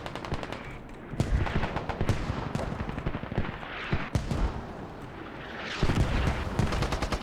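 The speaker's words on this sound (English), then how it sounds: "multiple explosions going on at the walled courts" Gunfire and explosions in the tactical shooter Squad during a tournament match: dense, rapid automatic bursts and heavy blasts rattle almost continuously, loud and close, with no talk over them.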